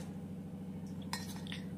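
Fried onion tipped into a metal mixer grinder jar, a few light clinks and scrapes of a spoon against the jar over a low steady hum, fairly quiet, no speech.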